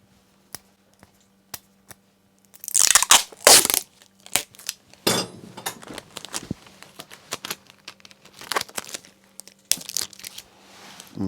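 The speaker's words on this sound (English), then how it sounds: "So I'll just get a little bit of tape." Tape being pulled and torn off a roll during removal of a Shimano E8000 e-bike motor, a few light taps first, then loud crinkly ripping bursts with short pauses between them, up close.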